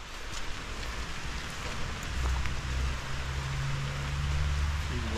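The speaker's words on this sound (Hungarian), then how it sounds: "hát egész évben esik az eső, de nem baj" Steady rain falls outdoors around an abandoned rural primary school, a dense even hiss with a low rumbling layer that swells slightly partway through; no voices.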